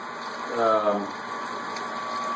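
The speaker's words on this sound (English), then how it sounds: "Chiller going on." Tap water runs through a counterflow wort chiller on an electric home-brewing rig, giving a steady rushing flow under a constant background hum, with a brief burst of voice near the start.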